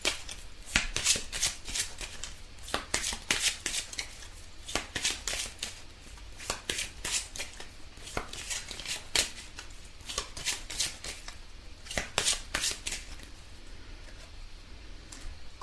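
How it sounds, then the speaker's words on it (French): Tarot cards being shuffled by hand, a steady run of quick papery riffles and flicks close up with short pauses, no voices. "on va tirer 3 cartes"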